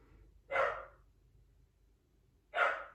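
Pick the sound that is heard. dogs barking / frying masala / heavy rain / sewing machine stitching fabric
dogs barking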